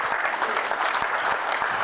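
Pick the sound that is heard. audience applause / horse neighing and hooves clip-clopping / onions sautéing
audience applause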